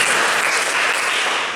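A group of young people clapping together in a clapping game at a church youth service, heard as one dense, loud burst of many hands that blurs into a short wash of sound.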